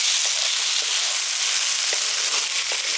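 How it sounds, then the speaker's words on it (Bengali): Gobindobhog rice stirred into a frying pan with rohu fish head, potol and potato, giving a loud continuous sizzle with occasional scraping strokes of a spatula, close and without speech. "চালটা দিয়ে ভালো করে মিশিয়ে দিচ্ছি।"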